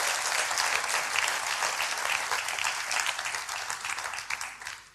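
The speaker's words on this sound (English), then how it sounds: "Give him a hand clap, everybody." A church camp meeting congregation claps for Brother Richard, a full, warm round of applause that stays strong before thinning and fading out at the end.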